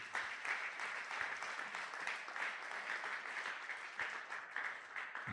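A church congregation applauds and cheers during a Sunday praise and thanksgiving service, steady dense clapping with crowd noise sustained throughout.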